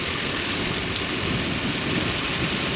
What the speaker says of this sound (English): Look at that rain coming in.